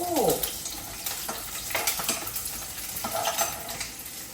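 Cumin seeds, garlic and urad dal fry in hot oil with a lively crackling sizzle, a spoon stirring and scraping the pan in bursts, close and steady, with no speech.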